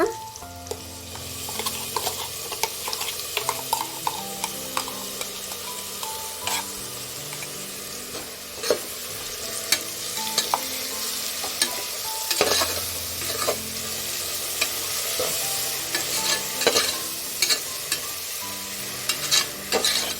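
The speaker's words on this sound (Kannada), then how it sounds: "ಫ್ರೈ ಮಾಡಿ ಹಸಿ ವಾಸನೆ ಎಲ್ಲ ಹೋಗುತ್ತೆ" Ground masala for brinjal rice frying in a pan, a continuous loud sizzle broken by frequent sharp spoon scrapes and taps as it is stirred.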